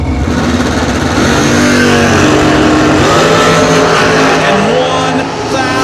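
Drag race pickup truck racing at a Working Man's event, loud sustained engine roar at full throttle with rising harmonics, crowd and track noise around it, a commentator's voice briefly over the top.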